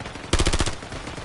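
A short, close burst of automatic gunfire from Call of Duty: Warzone, about half a dozen rapid shots cracking loudly in quick succession, then fading into background game ambience.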